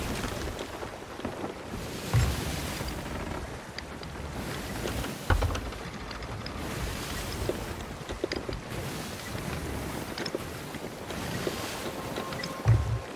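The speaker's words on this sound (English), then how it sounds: "Frickin' headwind, man." Steady headwind rushes over a sailing ship in Sea of Thieves, with wind buffeting, creaking hull and sloshing waves, plus a few louder thumps at intervals.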